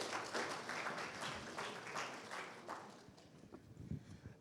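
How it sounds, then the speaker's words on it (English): Scattered audience applause at a formal manifesto series presentation in a hall, moderately loud at first and thinning out toward the end, with a few isolated claps. "please give him a louder round of applause"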